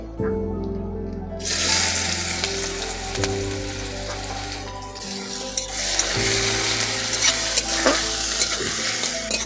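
Chopped onion fries in a pan with black cumin and a bay leaf, a loud close sizzle with stirring scrapes and occasional clinks, steady throughout without speech.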